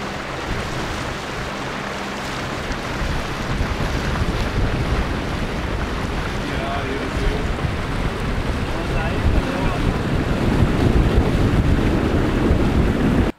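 A fishery fund motorboat of the Doli Marina type with a 50-horsepower outboard engine runs across open water, its steady drone mixed with wind buffeting and splashing waves, growing slightly louder toward the end.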